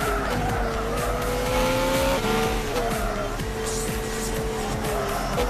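Tires squeal under hard braking as a car slams into a corner on a racing track in Gran Turismo 6, the screech sliding over a steady engine drone for several seconds with no talk.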